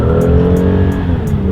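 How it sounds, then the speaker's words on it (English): A 2017 Lexus ES 350 in sport mode accelerating hard, a loud, steady engine roar from inside the cabin that holds strong for a couple of seconds. "now that we have it in sport mode here, let me do a quick little acceleration"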